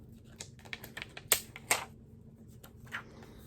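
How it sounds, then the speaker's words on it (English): Plastic wrap is peeled and crinkled off an eyeshadow palette, with soft scattered crackles and two sharper snapping crinkles, close and quiet. "Let's see if I can get the plastic off so we can look."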